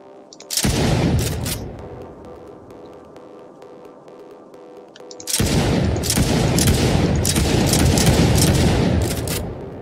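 Shotgun blasts in an Unreal Engine 4 third-person shooter game, one loud burst followed by a sustained barrage of rapid, booming shots with crackling tails, all close and without voices.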